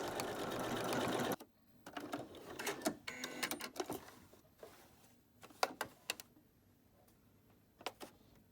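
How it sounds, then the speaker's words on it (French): A sewing machine stitches a buttonhole on a jacket flap, starting with a short continuous run and then giving way to bursts of quieter ticking and clicking stitches, fairly close and with no voices. "On coud la boutonnière avant de fixer le rabat sur la veste, c'est beaucoup plus pratique."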